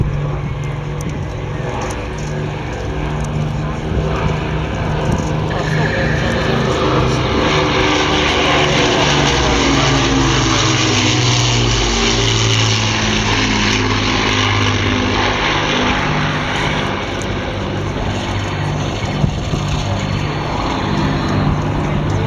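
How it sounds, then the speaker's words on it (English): Avro Lancaster bomber with wheels and flaps down, passing low at an airshow. Its propeller engines give a loud, sustained droning roar that swells and shifts in pitch as it passes. "As our boys put the wheels down, setting the flap to do a low flyby"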